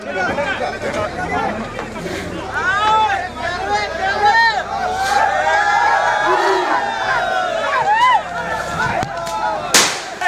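A crowd of local villagers roars with cheering and excited shouting as a rescued baby elephant climbs out of a well, with a dense, continuous babble of many voices and occasional whistles.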